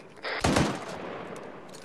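A short, loud burst of automatic machine gun fire rattles out in Arma 3 combat, a few rapid shots packed together, then trailing off into a rumbling echo.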